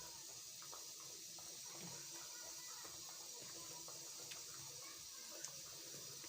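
Water pours steadily into roasted flour in a kitchen pot for a nihari recipe, a soft continuous trickle and splash heard quietly and alone.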